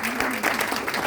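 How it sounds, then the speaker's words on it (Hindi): Crowd applause at a 25th wedding anniversary celebration, a brief continuous patter of many hands clapping, with a faint tonal hum running underneath. "जोरदार तालियां"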